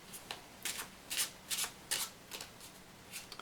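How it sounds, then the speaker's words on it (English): Cards being shuffled in a series of quick riffling bursts, close and crisp, with short pauses between them; no talking. "So you'll hand them the deck, let them shuffle it"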